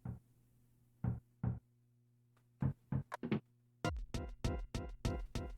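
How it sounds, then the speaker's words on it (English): Knocking on a door in the Boogeyman horror video game: first a few sparse single knocks, then a rapid, insistent run of loud, close raps, with no voices. "Wake up in the middle of the night to a very annoying knock"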